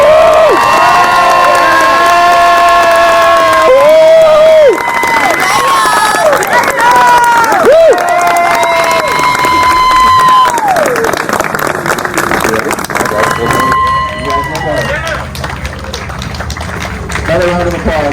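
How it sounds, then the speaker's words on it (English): Wedding guests clap and cheer loudly for a newly married couple being introduced as husband and wife, with whoops and excited shouts over steady applause that carries on throughout and thins slightly toward the end. "Another round of applause, everybody."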